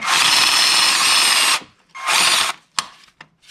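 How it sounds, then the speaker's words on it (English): A power drill cranking a car jack to lift a Mercedes W124 whirs loudly in a long burst, then runs again in a shorter burst, followed by a few brief ratcheting clicks. "I have the end of the handle from one in my drill"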